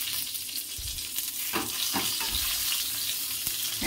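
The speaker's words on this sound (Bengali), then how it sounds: "বেগুনটা এবারে ভাজা হয়ে গেছে" Eggplant fries in a pan with a steady, close hiss of sizzling oil, broken by a few louder crackles and spits, with no one talking.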